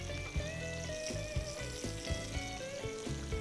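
Blackened food cooking in a pan, a continuous close sizzle with scattered pops and crackles, joined by music with a regular beat underneath.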